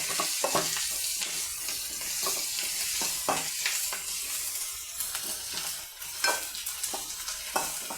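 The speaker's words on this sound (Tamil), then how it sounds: "அந்த தக்காளி போட்டுக்கலாம். நல்லா வதங்கிட்டு பாருங்கள், வதங்கிடுச்சு." Chopped medium tomato and onion sautéing in a pan, with a steady close sizzle broken by repeated scraping and clattering stirs throughout, no voices.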